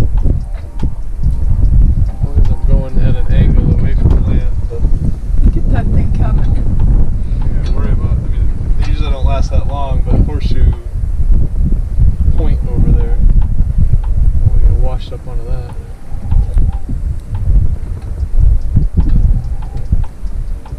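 Squall wind buffets a small sailboat running under a tiny sail, roaring and rumbling into the microphone almost without pause, while people talk throughout over the gusts.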